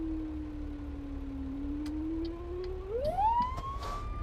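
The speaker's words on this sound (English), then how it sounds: "every time they pull up to a light, when they slow down, their siren slows down" A police car siren in the American Truck Simulator video game holds a low, slow wail and then sweeps upward in pitch as the vehicle speeds up, heard clearly over a low engine drone.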